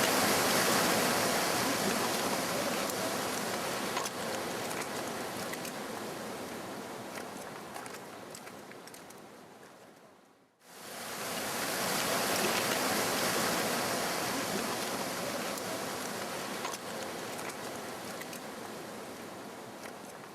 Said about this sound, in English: This is a slight trickle off the glacier.